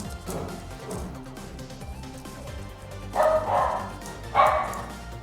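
Indoor dogs give a few yips and barks, with two sharp bursts late on, fairly faint beneath a steady background hum.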